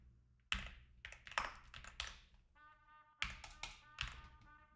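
Close computer keyboard typing comes in bursts of sharp taps and heavier key thunks during a live coding stream, with a brief tonal sound between bursts and no clear talking.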